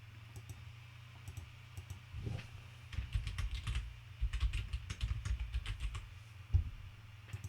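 Keystrokes on a computer keyboard as a password is entered, a quick run of close, crisp clicks in uneven bursts with short pauses, no voices.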